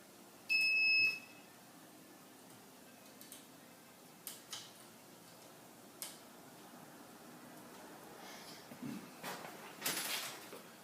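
A Dillon 550B reloading press sounds its low-primer alarm, a short loud electronic beep near the start, followed by scattered faint ticks and clicks of handling the press.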